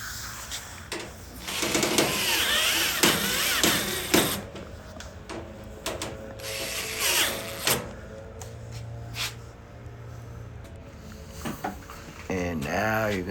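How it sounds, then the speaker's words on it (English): A ratchet retightens 1/4-inch screws at the top of a Maytag Bravos XL gas dryer during a drum roller repair, giving close, irregular mechanical clicking and scraping with short pauses. "now you need to retighten those 1/4-inch screws"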